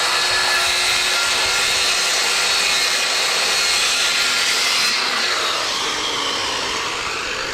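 Underground plumbing pipe being cut, a steady continuous sawing rasp that runs loud and unbroken, easing slightly toward the end.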